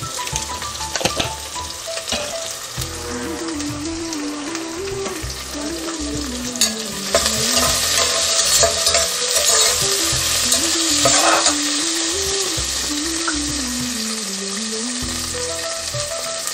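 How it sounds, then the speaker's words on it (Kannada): Onions fry in a pan with a pinch of salt while being stirred, making loud continuous sizzling with scraping stir strokes and a faint wavering tone running underneath. "ಈರುಳ್ಳಿ ಸ್ವಲ್ಪ ಬೇಗ ಫ್ರೈ ಆಗಲಿಕ್ಕೆ ಸ್ವಲ್ಪ ಉಪ್ಪು ಹಾಕ್ಕೊಳ್ಳೋಣ"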